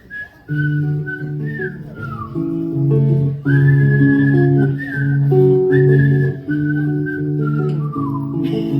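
Melodic whistling by a performer at a live music show, bright sustained tones gliding over guitar chords and a steady accompaniment, loud and continuous throughout.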